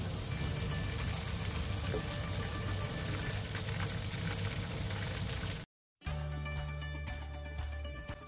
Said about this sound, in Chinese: 把牛肝放入热油中，炸至外表金黄，表面变脆后，捞出备用